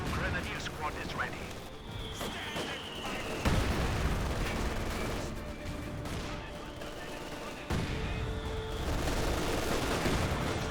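Company of Heroes battle erupts with dense rifle and machine-gun fire, mortar and artillery booms and a couple of heavy blasts, a loud continuous fusillade throughout with a commentator's voice talking over it.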